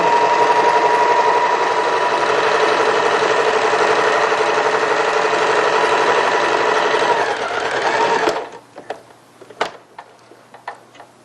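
A sewing machine runs steadily for about eight seconds, stitching the first pass along a presser-foot seam allowance on a children's strappy dress, then stops and gives way to a few sharp clicks and handling taps.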